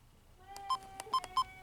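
Menu beeps from a Sony Cybershot DSC P32 digital camera: three short, clear electronic tones in quick succession, close and fairly quiet, mixed with faint button clicks.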